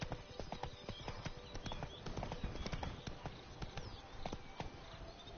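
Galloping horse hooves in The Witcher 3: Blood and Wine, a rapid, steady drumming of hoofbeats kept up throughout at moderate volume over the game's background ambience.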